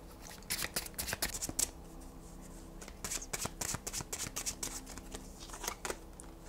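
Fortune cookie tarot-style card deck being shuffled by hand, with quick riffling and flicking bursts and soft card slaps as cards are pulled, close and quiet, no talking.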